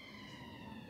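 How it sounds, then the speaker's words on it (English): An emergency vehicle siren wails faintly in the distance near a hospital, a steady tonal drone heard briefly over background hum. "Apologies for the sirens in the background,"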